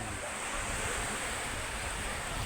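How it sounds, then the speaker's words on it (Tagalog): Steady, loud wind roaring across the microphone on the coast of Samal Island, with broadband rushing noise and surf-like wash underneath, continuous throughout. "mahangin na po ngayon"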